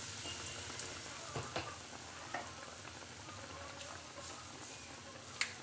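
Potato bread patties sizzle steadily in hot oil, a soft continuous frying hiss with a few small pops and crackles, close and fairly quiet with no talk.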